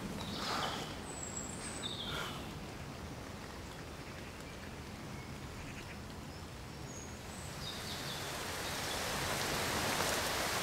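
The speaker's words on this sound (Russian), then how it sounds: "Оп, дождик." Steady hiss of rain falling outdoors, growing slightly heavier toward the end, with a few faint bird calls in the distance.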